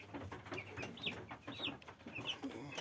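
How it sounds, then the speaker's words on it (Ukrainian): Young broiler chickens in a coop brooder give soft, rapid peeping chirps and clucks, several birds calling in quick irregular bursts, close but quiet with no talk. "вони е, кури, курчата п'ють воду"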